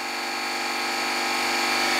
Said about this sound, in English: wait for the compressor to charge up a little bit